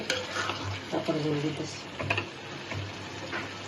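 Eggs are stir-fried in a pan for spicy egg curry, with soft sizzling under repeated scraping and clinking spatula strokes against the pan, close by, with some faint talk.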